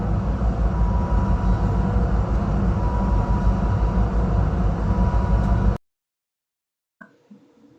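An Amtrak Texas Eagle train rumbles steadily with a loud, continuous low roar and rattle near El Paso, Texas, then the sound cuts off abruptly into near silence.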